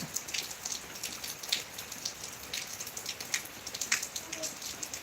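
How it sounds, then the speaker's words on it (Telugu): Light rain and wind from an approaching cyclone: rain patters steadily with scattered soft drops and a faint breezy hiss, no voices. "చూస్తున్నారుగా లైట్గా గాలి వర్షం కూడా స్టార్ట్ అయిపోయింది"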